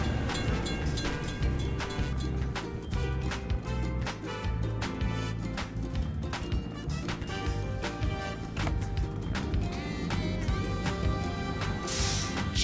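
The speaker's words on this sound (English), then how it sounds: "We have to wait for the train to pass." A cartoon train rolls past a closed crossing gate in a children's construction-vehicle game: a steady, busy rumbling clatter that stays loud for about thirteen seconds, mixed with other game sounds.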